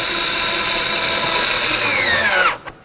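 A power drill tightens the mirror mounting nuts on a 2002-08 Dodge Ram 1500, a loud, steady, close whine that holds for a couple of seconds, then drops in pitch and stops abruptly, leaving a short faint tail.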